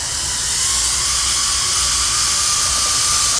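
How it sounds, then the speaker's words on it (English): A BISSELL Power Fresh steam mop lifted from the floor releases a loud, continuous hiss of steam, close and unbroken, with no talking over it. "you guys can see how much steam is being produced"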